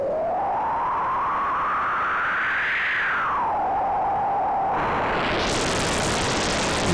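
A Shakmat Banshee Reach noise module fed a sine wave, with its color control fully counterclockwise, gives a breathy, windy flute-like tone that glides up and dips, then turns into bright hissing noise near the end.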